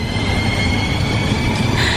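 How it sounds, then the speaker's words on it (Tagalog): Radio-drama effect of a train running and coming to a stop, a loud steady rolling rumble with a high metallic whine rising near the end, no voices. "Hihinto na ang tren."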